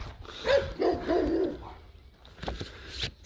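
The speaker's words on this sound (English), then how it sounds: "Those puppies are loud and big." Large, loud dogs bark a few times on a quiet residential street, sharp barks spaced over a couple of seconds, fairly close, followed by softer yelps and scuffles.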